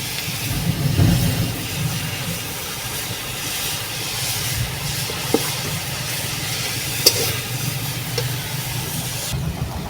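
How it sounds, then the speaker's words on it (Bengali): Grated coconut frying with thin date palm jaggery in a pan over a village clay stove, giving a steady, close hiss and sizzle that runs the whole time with a few small pops and crackles. "নারকেলটাকে আমি ভেজে নিচ্ছি তো বেশিক্ষণ ভাজতে হবে না যেহেতু গুড় দিয়েছি"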